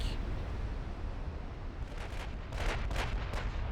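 Naval guns of the warship Krasnodar fire in a naval strategy game set in 1960, a few muffled booming bursts rising over a steady rumbling, noisy backdrop.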